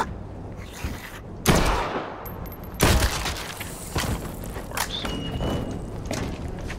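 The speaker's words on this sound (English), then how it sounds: "so if I shoot you in the neck," Gunfire aimed at a zombie's neck in the video game Dead Island 2: several sharp, loud shots spaced a second or so apart, each a heavy thumping blast, amid game ambience and shuffling movement.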